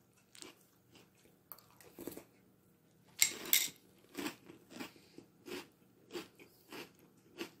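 Boo Berry cereal being eaten: close, crisp crunching bites, one loud crunch near the middle, followed by a regular run of softer chewing crunches, with no talk.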